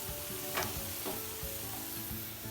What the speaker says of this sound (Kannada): ಈಗ ಆನಿಯನ್ ಫ್ರೈ ಆಯಿತು.